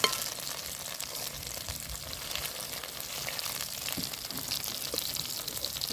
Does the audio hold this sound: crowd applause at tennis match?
no